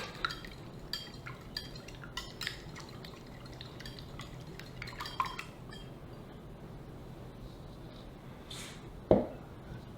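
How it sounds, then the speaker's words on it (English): Two whole eggs and an egg yolk being whisked in a bowl, soft uneven liquid sloshing and light clinks against the bowl, faint and close, with a sharper clink near the end. "We have 2 whole eggs and 1 egg yolk. And we're going to just mix that up a little bit."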